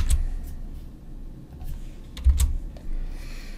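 Typing on a computer keyboard to enter a quiz question, scattered soft key clicks in short irregular bursts with low thumps, close by and fairly quiet, with no talking.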